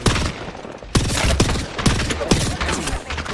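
Sustained automatic gunfire in a competitive video game match, a fast, loud rattle of shots with several sharper, heavier cracks punctuating the barrage.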